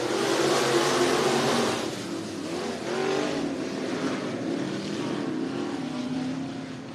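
Dirt track race cars at Cottage Grove Speedway in Oregon during a heat race, a continuous loud roar of engines from a group of cars passing and droning around the oval.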